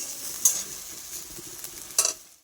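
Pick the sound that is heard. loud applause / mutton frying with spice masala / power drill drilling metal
mutton frying with spice masala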